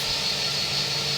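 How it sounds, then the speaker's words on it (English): A steady Airbus A321 IAE jet engine whine and roar in a flight simulator, constant and unbroken, with a high-pitched tone over a low rumbling drone. "A321 IAE engine sound packs"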